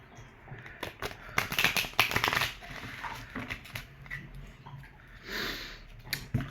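Hand shuffling of a Starseed oracle card deck, close up, with irregular papery rustles and riffling bursts that rise and fall over a few seconds, no speech.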